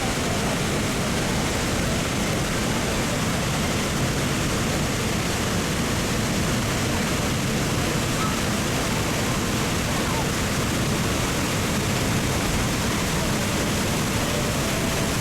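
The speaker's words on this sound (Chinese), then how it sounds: "终年有水得天瀑布与越南的百约瀑布相连在一起" Detian Waterfall on the China–Vietnam border in Guangxi pours in a dense, unbroken roar of rushing water, a loud broadband wash that holds steady with no pauses.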